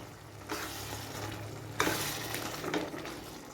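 Oyster mushroom biryani mixture with a cup of yogurt is stirred in a hot pan, giving a steady soft sizzle with scraping swishes from the spoon, close and quiet, with no talk.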